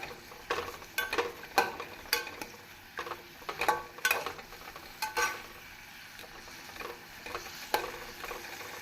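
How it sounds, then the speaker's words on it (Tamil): Thinly sliced brinjal frying in a pan with a soft sizzle under repeated scraping and stirring strokes until golden and crisp, close and rhythmic with short pauses. "நம் கத்திரிக்காய் நன்றாக பொன்னிறம் ஆகும் வரை மொறுமொறுப்பாக வதக்கி எடுத்துக்கொள்ள வேண்டும்"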